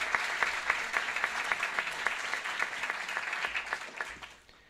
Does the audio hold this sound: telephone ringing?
no